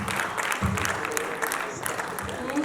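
An audience applauds panelists at the close of a panel discussion, steady clapping at moderate distance with a murmur of crowd and a voice partly over it.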